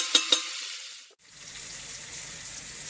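A thick ribeye steak sizzles in a hot pan: two sharp clanks open, then after a brief dip a steady, moderate crackling fry continues close by.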